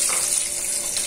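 Food sizzles and crackles steadily as it fries in a hot pan, a close, continuous hiss with no voices.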